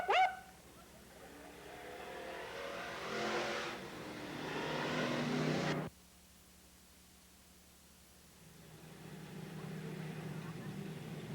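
Race cars roar around the dirt oval at Cottage Grove Speedway during an eight-lap supers heat race, a far, surging engine drone that swells, cuts out abruptly, then builds again, with a commentator speaking over it.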